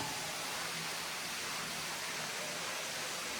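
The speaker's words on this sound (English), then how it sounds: "I hear a waterfall." A waterfall inside a cavern, heard as a steady, even broadband roar of rushing water that fills the whole space without pause, distant and soft.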